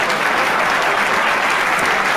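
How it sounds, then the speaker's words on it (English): Sustained applause from a large TED conference audience standing at the end of a talk on sea creatures, a dense, steady clatter of clapping hands filling the hall without a break. "Audience members, stand and applaud."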